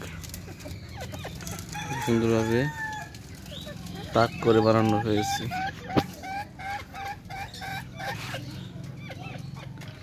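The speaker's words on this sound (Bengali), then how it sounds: "এই যে পাশেও গলা ছোলা মুরগিও রয়েছে, এটা মোরগ।" Chickens, including naked-neck hens, cluck and a rooster crows twice in loud bursts nearby in cages, with a person talking briefly over the farmyard noise.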